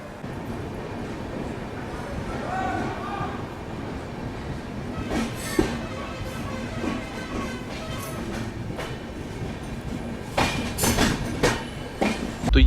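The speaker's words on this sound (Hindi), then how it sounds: "बिल्कुल राइट टाइम हम लोगों की ट्रेन चल चुकी है उज्जैन जंक्शन से।" Duronto Express train rolling out of Ujjain Junction, heard from inside the coach: a steady rumbling rail drone with periodic clickety-clack wheel beats over rail joints, growing busier toward the end.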